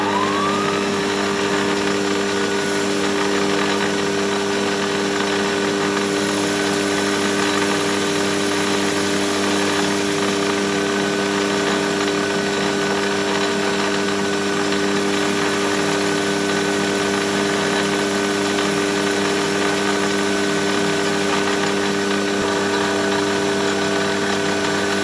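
A metal lathe faces a part to length for a scroll clock barrel, the workpiece butted against the chuck jaw; a steady, even machine hum with tonal whine runs unbroken for the whole stretch, moderately loud and without talk.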